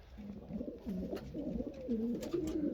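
Pigeons in a loft while young birds are being fed, giving soft, low rolling coos that repeat closely and overlap, with faint rustling and occasional sharper sounds in the background.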